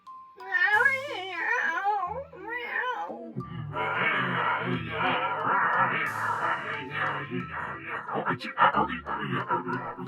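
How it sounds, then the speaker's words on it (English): A cat wails and yowls in long, rising and falling cries, fairly close and loud, continuing for several seconds with a rough, moaning texture. "Quiet, Skelly Cat."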